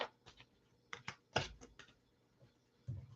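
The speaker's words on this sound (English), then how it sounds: "I'm going to shuffle some cards for you" Tarot cards are shuffled during a live reading, with quick bursts of crisp clicking and riffling at close range, separated by short quiet gaps.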